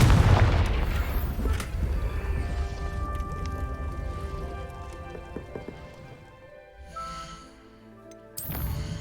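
A Confringo fire spell bursts in a video game: a loud, booming blast at the start that decays into a rumbling tail, with fainter crackles and a second sharp burst near the end.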